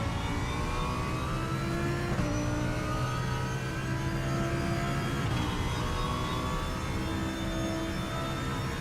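Mid-engine race car revving in the RaceRoom racing game, engine pitch rising and falling through several gear changes, loud and continuous with no talking.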